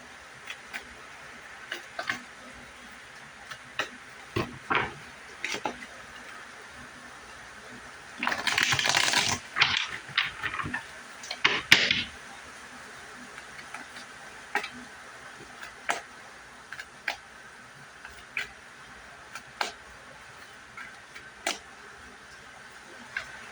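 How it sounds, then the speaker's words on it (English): Tarot cards are shuffled in a quiet room, with scattered soft card ticks and one denser burst of riffling in the middle, close and fairly faint. "Sometimes I just can't stop shuffling."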